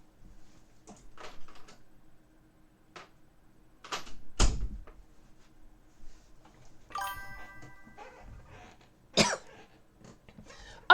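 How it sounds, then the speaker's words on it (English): A person coughs in short, scattered bursts across a quiet room, with a few knocks and a louder hack partway through, the coughs spaced irregularly rather than in one continuous fit. "I'm just having a coughing fit from taking a blinker."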